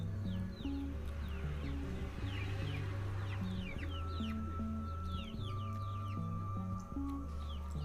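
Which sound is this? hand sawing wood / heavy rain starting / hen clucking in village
hen clucking in village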